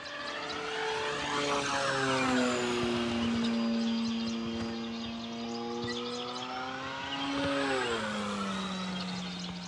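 An E-flite P-51D Mustang RC warbird, 1.5 m span, runs its electric motor at full throttle, a steady droning whine that rises and bends in pitch as the plane passes, then eases slightly lower toward the end, with no talk.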